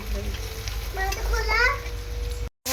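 Turmeric, chili and cumin powders fry in a pan for a bitter gourd curry, giving a close, busy sizzle with stirring. A voice rises briefly in the middle, and the sound cuts off abruptly at the end.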